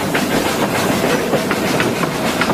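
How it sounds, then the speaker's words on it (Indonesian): A steady rumbling steam train sound with rhythmic clickety-clack of wheels on rails, continuous and fairly loud throughout. "Wih, kereta api uap."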